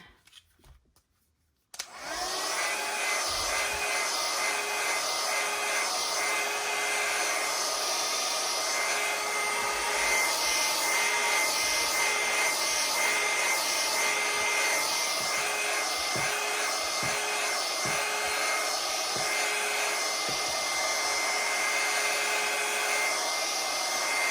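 A hair dryer blows steadily on a watercolour painting in progress, switching on after a brief quiet start and then running loud and continuous throughout with a constant whirring hiss.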